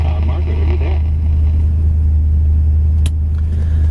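A 1969 Buick Riviera with an engine rebuilt 10,000 miles earlier idles with a steady, deep low rumble, continuous and fairly loud throughout, with a brief sharp click near the end.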